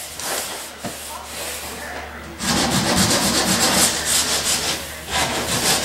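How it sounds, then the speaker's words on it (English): Coarse 40 grit sandpaper scrubs across a fiberglass car bumper in steady back-and-forth rasping strokes, close and loud, getting heavier partway through. "Gotta make sure this fiberglass that's part of the bumper is sanded pretty good, so we're gonna, like I said, 40 grit."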